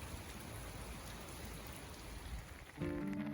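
Rain falls at a campsite in the Hautes-Alpes as a soft, steady patter and hiss, faint and continuous, with a brief tonal sound near the end.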